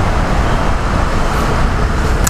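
Steady, dense road traffic in Metro Manila, a continuous broadband rumble of cars, buses and trucks close by with no clear single pass, recorded from a motorcycle.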